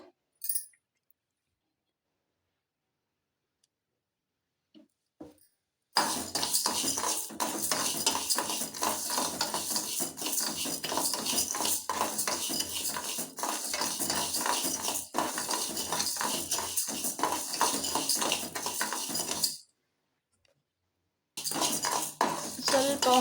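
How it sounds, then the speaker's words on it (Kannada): Rice is dry-fried and stirred in a pan for moong dal rice payasa, giving a steady scraping, rustling sound with utensil clinks, after a near-silent start and with a short break before the end. "ಅಕ್ಕಿ ಹಾಕ್ಕೊಂಡು ಇದನ್ನು ಸ್ವಲ್ಪ ಚೆನ್ನಾಗೇ ಫ್ರೈ ಮಾಡ್ಕೋಬೇಕು"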